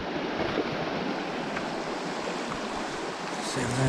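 Bubbly river water flowing in a clear, shallow stretch fished for sea trout, a steady close rushing and gurgling that fills the whole stretch without pause.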